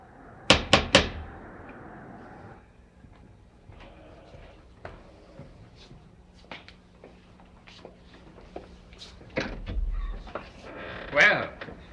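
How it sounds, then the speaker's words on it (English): Knuckles rap on the front door of Collinwood, the old mansion, in a quick cluster of sharp knocks, followed by scattered thuds and footsteps as people begin to talk. "go ahead and knock"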